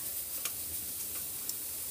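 Ridge gourd frying with grated coconut in a pan gives a steady, soft sizzling hiss, with a couple of faint ticks and clicks from stirring.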